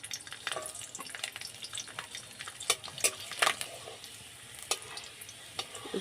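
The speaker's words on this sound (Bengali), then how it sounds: "কিছু রসুন কুচিয়ে নিয়েছি, ভেজে নেব।" Chopped garlic fries in hot oil in a wok, a close crackling sizzle broken by repeated sharp scrapes and clinks of a stirring utensil against the metal.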